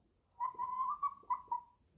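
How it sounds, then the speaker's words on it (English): A young chicken gives a few soft, quiet whistling peeps and whines, a short run of closely spaced tonal calls close by and alone against silence. "A few little whistles and whines there."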